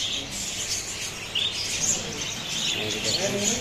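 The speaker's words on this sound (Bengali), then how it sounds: "এখানে ঘুঘু পাখির বাচ্চা আছে," Dove chicks chirp and peep repeatedly over a busy background murmur, the calls soft and scattered in an indoor bird shop.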